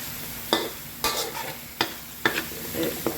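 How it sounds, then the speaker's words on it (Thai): Chillies and shrimp paste stir-fried in a pan for a tilapia coconut curry, with several distinct scraping stirs of the utensil over a soft steady sizzle, close and fairly loud, no talking. "ผัดพริก ผัดอ่อปีให้หอมไปกับพริก"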